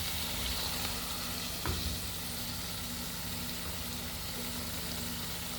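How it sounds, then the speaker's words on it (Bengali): Spice paste of cumin and coriander powder frying in a pan with added water for a potato, eggplant and poa fish curry; a steady, close sizzle runs throughout, with one brief stir or knock partway. "মশলাটা সুন্দর করে ভালোভাবে কষিয়ে নেব।"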